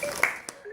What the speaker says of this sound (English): She claps.